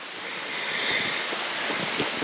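A waterfall near Highmoor campsite rushes in a steady, loud, broadband roar that stays close and constant throughout, with no voices.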